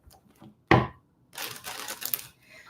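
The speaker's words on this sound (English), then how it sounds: "let me do one more shuffle because it feels right in the body to do" Tarot cards are shuffled by hand in quick riffling bursts, one sharp slap followed by a longer crisp flutter of cards, close and clear with no talking over it.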